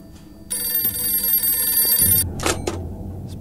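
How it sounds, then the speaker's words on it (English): A telephone rings in the indie horror game April 24th, a loud, steady electronic ring lasting close to two seconds and then cutting off, followed by a couple of short clicks and thumps. "Let's pick up the phone."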